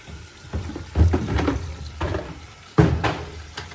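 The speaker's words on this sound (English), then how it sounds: "We're going to put hot water" Hot water filling a container for cleaning a Pacvac Glide 300 vacuum, splashing pours in bursts that start and stop, close by, with a clunk near the end.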